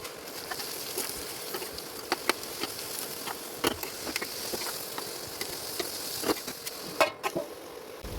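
Bitter gourd pieces coated with turmeric and salt fry in oil in a pan, giving a quiet, continuous hiss dotted with small pops and clicks throughout.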